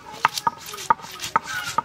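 Chillies being ground on a grinding stone for a fish dish: five or so sharp, evenly spaced knocks with light scraping in between, close and fairly loud.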